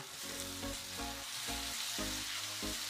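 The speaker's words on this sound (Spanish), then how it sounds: "vamos a tostar nuestras especias alrededor de 30 segundos" Chicken wings sizzling steadily in a pan with spices being toasted for a curry, a loud, even frying hiss broken by repeated low thumps and scraping as the pan contents are stirred, with no talking.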